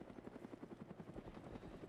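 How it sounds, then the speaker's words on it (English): A helicopter in the video game Arma 3 thumps with a steady, rapid rotor beat. The sound is faint and distant and continues without talk. "Helicopter coming in from the west."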